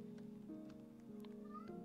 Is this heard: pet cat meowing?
yes